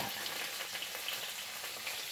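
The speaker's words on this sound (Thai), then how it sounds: "แล้วเราทอดเนื้อไก่นะคะ" Chicken meat fries in hot oil for a massaman curry, giving a continuous, even sizzle with light crackling that stays at a steady level throughout.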